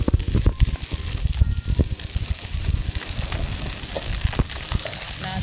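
Mackerel frying in oil outdoors, being stirred, with onion and tomato in the pan: a steady dense sizzle runs throughout, broken by irregular clinks and scrapes of a utensil.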